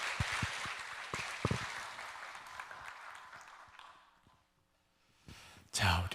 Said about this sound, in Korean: 목사님 나오실 때 박수로 맞이하겠습니다